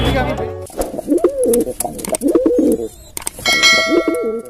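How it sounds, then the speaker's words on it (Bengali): Pigeons coo repeatedly at a village pigeon market, their low burbling calls overlapping with voices and occasional metallic clinks nearby. "সব কবুতর নিয়ে বসে রয়েছে"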